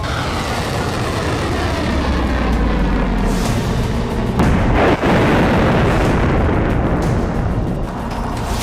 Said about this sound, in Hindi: इजराइल के मिसाइल अटैक से ईरान दहला।